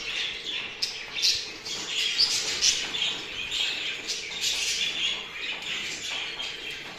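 Busy birds chatter and squawk in a dense chorus, a male show jumbo budgerigar courting a female, with repeated sharp calls and chirps over a steady background hiss.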